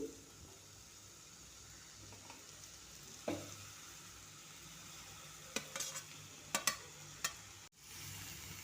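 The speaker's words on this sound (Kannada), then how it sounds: "ಎಲ್ಲ ಚೆನ್ನಾಗಿ ಮಿಕ್ಸ್ ಮಾಡ್ಕೊತಾ ಇದ್ದೀನಿ." Cauliflower pieces fried earlier are stirred with salt and spices in a pan for gobi palya, giving a faint steady sizzle with a few sharp scraping strokes of the spoon near the end.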